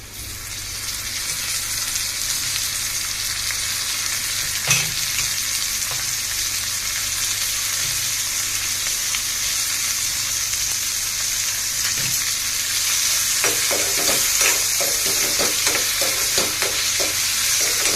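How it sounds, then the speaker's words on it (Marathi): Tomatoes and onion being sautéed in a hot pan give a loud, continuous sizzle for a long stretch, with scattered scrapes and clinks of stirring growing busier toward the end, and no voices. "हे सुद्धा चांगलं परतवून घेते, छान असं गरम होण्यासाठी"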